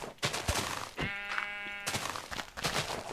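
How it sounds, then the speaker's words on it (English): A sheep in the Minecraft video game bleats several times in quick succession, loud and clear with a wavering tone, standing alone with no talk over it. "Sorry, sheep."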